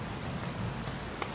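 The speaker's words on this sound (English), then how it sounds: "Sound effects and the rain effects, so beautiful." Steady rain falls in the video game Gothic 2, a dense even hiss of drops on surfaces with a faint patter throughout and a slightly brighter splash near the end, heard alone.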